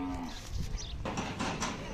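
Khillar cattle lowing at the Sangola livestock market, a couple of moo-like calls rising over a busy, noisy crowd murmur with other animal sounds mixed in.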